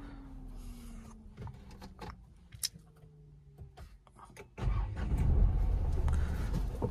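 A Renault Kiger RXT (O) is started by push button: soft clicks and a whirring whine first, then the engine catches with a sudden loud rumble and settles into a steady idle.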